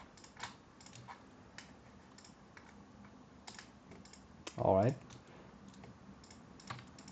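Sparse, quiet clicks of typing on a computer keyboard during an SQL lesson, with a brief louder burst midway and a person speaking softly.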